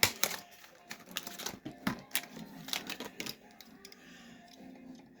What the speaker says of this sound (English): let's get them off the card and take a look at him